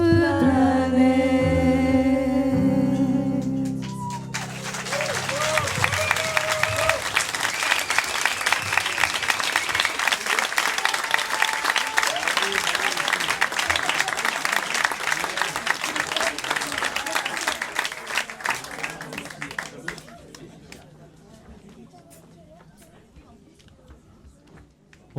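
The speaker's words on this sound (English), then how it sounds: "Oui, on peut les applaudir très fort" A concert audience breaks into loud, sustained applause after a Rock School band finishes a song, the closing sung notes fading into dense clapping that runs for about fifteen seconds before thinning out.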